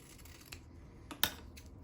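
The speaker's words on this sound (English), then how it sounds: "I'm going to trim this ribbon" Scissors snip through ribbon while making window decorations, a couple of quiet cuts with one sharp, crisp snip standing out near the end against a soft room background.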